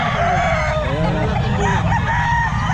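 Roosters crow loudly and repeatedly amid clucking chickens at a busy open-air pet market in Bocaue, several birds overlapping under steady crowd chatter.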